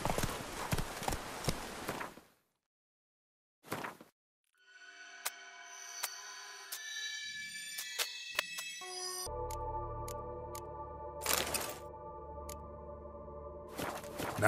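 Roach, a horse in The Witcher 3, clip-clops in rhythmic hoofbeats, broken by a silent gap, with game sounds such as tonal pings and chimes around the steps and no talking.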